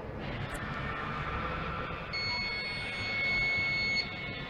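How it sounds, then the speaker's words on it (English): A steady electronic bus driver alert alarm tone sounds over a constant mechanical hum, with a brighter, louder beeping layer joining partway through and then dropping away. "it is given alert to the driver by means of an alarm"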